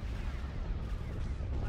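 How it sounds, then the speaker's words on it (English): Laser cannons blaze away in a space battle in the Star Wars strategy game Empire at War, a dense, continuous roaring barrage of overlapping blasts with no pause. "Open fire on those laser cannons."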